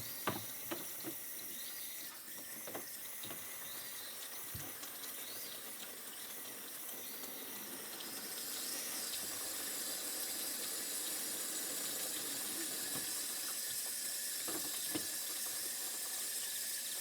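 Water runs steadily from a tap fed by a pump with an accumulator in a shipping container home, a continuous soft hiss that swells a little louder partway through, with faint knocks and clatter in the background.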